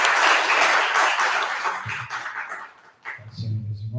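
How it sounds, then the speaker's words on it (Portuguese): A church congregation claps together in a brief, dense burst of applause that fades after a couple of seconds, followed by a voice speaking. "Uma linda salva de palmas para o Senhor."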